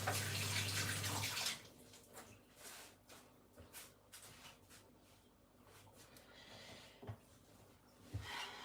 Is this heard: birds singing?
no